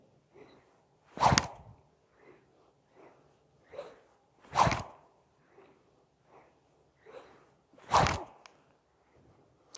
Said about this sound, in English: Your whoosh sound that's muscle driven.